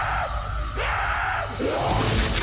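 Echoing screams and yells in the Call of Duty Zombies map Verrückt, a video game set in endless asylum hallways: several drawn-out wails rise and fall one after another over a low droning ambience, distant and reverberant.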